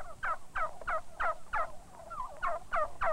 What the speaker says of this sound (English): Listen to them gobble.